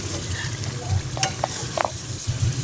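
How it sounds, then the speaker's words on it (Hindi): A spoon gently stirs fish korma in a sizzling pan, a continuous close fry hiss broken by a few light metallic scrapes and taps, without voices. "अब मछली को हल्के हाथ से चम्मच के साथ आपने हिलाना है"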